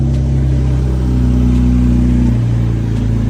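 A BMW M4 engine runs loud and close after a cold start, with a deep, steady idle drone that shifts pitch partway through as the revs change.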